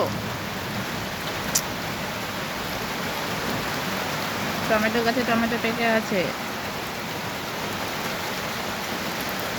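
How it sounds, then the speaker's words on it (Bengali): Rain pours steadily outdoors during a stormy spell, a dense, even hiss that persists throughout while a person talks over it near the middle. "তার সাথে বাজ পড়ছে, আবার বৃষ্টি হচ্ছে।"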